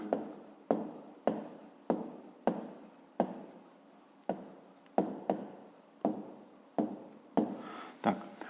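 Pen writing out an answer to a fifth-grade maths exercise, heard as a close series of about a dozen crisp scratching strokes at a steady pace with brief pauses between them and no talk.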